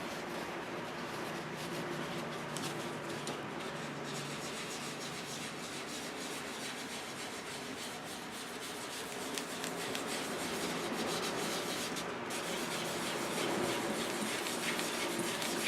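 Soft, steady rubbing of a cloth or tool lifting alcohol ink off synthetic Yupo paper, a continuous dry scratchy friction at close range, quiet and unbroken with no talk.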